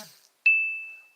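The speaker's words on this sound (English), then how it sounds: "My phone is making noises." A phone gives a single clear electronic ding, a bright pure tone that rings on and slowly decays after a brief quiet moment.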